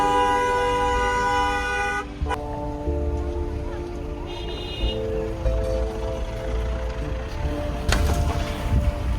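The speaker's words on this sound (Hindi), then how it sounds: "भाई बहुत ट्रैफिक है यार सोनमार्ग में तो।" Car horns toot repeatedly in heavy traffic at Sonamarg in Kashmir, one long honk opening the scene and further blasts following amid engine rumble and a wash of road noise.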